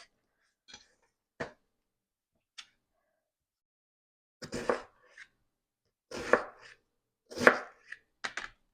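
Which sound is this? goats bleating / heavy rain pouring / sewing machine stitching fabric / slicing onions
slicing onions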